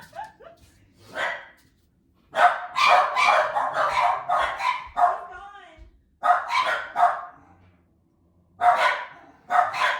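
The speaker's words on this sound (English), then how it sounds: "Got the animals all worked up." Several dogs bark excitedly at the mailman in short repeated bursts of sharp, close barks separated by brief pauses, loud and alone.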